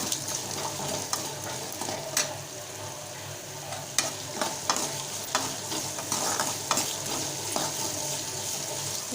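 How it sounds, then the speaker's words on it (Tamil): Finely chopped large onions stirred and sautéed in a hot pan for a Tamil snack, steady sizzling frying with repeated scraping and clinking of a spatula against the pan, close and fairly loud, no talk. "இப்போ இதை நல்லா வதக்கிக்கலாம்"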